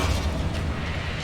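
A Confringo spell blast in Hogwarts Legacy erupts as a dense, roaring explosive rumble. It is loud and continuous, filling the whole brief moment with deep booming noise and no voices.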